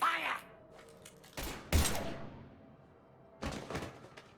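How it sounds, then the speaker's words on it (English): Gunfire erupts in the sci-fi video game Mass Effect 3 Legendary Edition during a standoff on Omega, with a few loud blasts and sharp impacts separated by quieter gaps. "Now open fire!"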